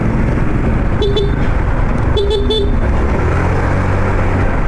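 A bus horn honks in short blasts, one then a quick double toot, over loud rumbling traffic and engine noise of large buses nearby on a road in the Philippines.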